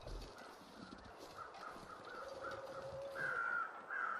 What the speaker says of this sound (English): Why else am I hearing these little doves go off?